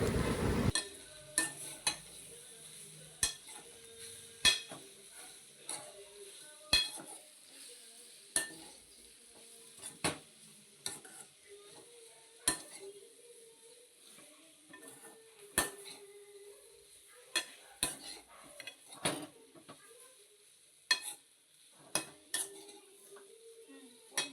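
Chapati pieces being stirred with masala paste in a pan, a spoon scraping and clinking against the metal in an irregular series of sharp knocks over a soft sizzle, close and alone without voices.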